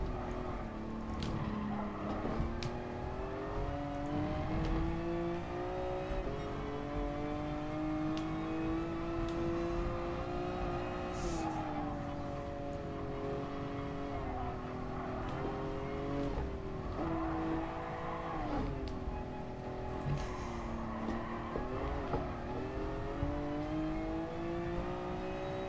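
Ferrari 330 engine in GT Sport during a nostalgic pre-1979 race, a loud onboard drone rising and falling through repeated upshifts and downshifts, with occasional tire squeal and other cars nearby.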